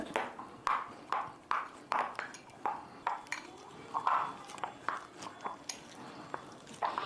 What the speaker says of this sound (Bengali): আটা নিয়ে নিয়েছি এখন ভালো করে মাখিয়ে নিচ্ছি